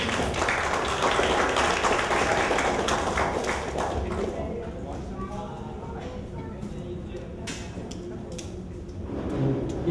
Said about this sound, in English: I would like for everyone to give a round of applause to all those that served